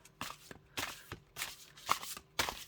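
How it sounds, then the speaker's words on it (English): A tarot card deck being shuffled in several short bursts, crisp riffling snaps about every half second, close and fairly quiet, with no speech. "I definitely can't shuffle this way."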